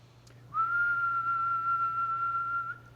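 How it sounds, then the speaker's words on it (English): A single clean, steady whistled tone holds one pitch for about two seconds against a quiet background hum. "But if I whistle,"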